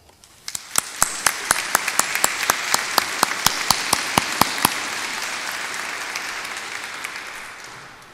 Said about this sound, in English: Let us all thank them with a round of applause